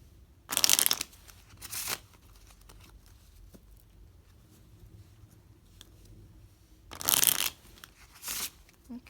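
Tarot cards shuffle by hand in two short, papery bursts about six seconds apart, each a quick riffle of close, crisp card noise, with near silence between them.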